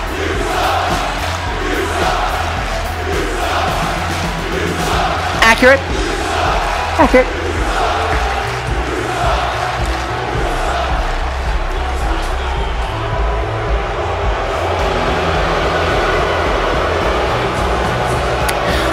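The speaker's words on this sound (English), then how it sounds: "These are some of the loudest boos I have ever heard for a female" A large wrestling arena crowd in Georgia keeps up a loud, sustained roar of booing, with a commentator talking over it and a short chant breaking through partway.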